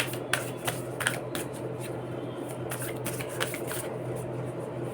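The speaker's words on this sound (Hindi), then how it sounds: "हाय कितना अच्छा लग रहा है इसको शफल करके" Tarot cards shuffled by hand, a steady papery riffling and sliding that runs the whole time with a few sharper slaps of the deck, close and fairly quiet, with no talking.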